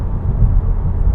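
Subaru WRX engine with an aftermarket exhaust, heard from inside the cabin as a loud, steady low rumble with a deep droning hum that holds throughout the short stretch.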